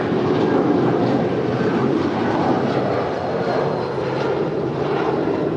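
A United Boeing 757-300 in the old livery at LAX, bound for Denver, makes a loud, steady jet engine roar that holds constant throughout.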